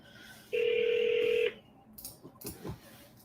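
A telephone sounds one steady electronic tone for about a second while a call is placed to an agent, then a few faint clicks and muffled handling noises follow.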